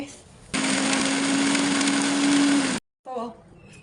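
A mixer grinder whirs loudly and steadily for about two seconds, grinding sautéed onion, ginger and garlic into masala for stuffed brinjal curry. It stops abruptly, and a voice follows briefly.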